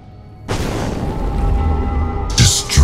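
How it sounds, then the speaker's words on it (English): Siege weapons being destroyed in the Diablo video game, a sudden heavy boom followed by a sustained rumbling roar, with two sharper blasts bursting out near the end. "Destroying my siege weapons makes little difference."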